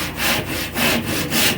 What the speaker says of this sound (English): Not too bad of a little hand saw.